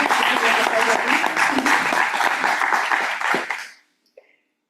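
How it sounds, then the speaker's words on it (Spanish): Audience applause for teachers at an autism awareness talk, loud dense clapping close by with some voices mixed in, fading out after about four seconds into near silence. "yo pediría un fuerte aplauso"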